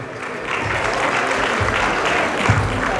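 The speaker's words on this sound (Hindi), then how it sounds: "बट तालियां बजाओगे तो और मजा आएगा।" Guests clapping at a sangeet night in Dubai, a dense, sustained round of applause from a sizable crowd, fairly close and even throughout.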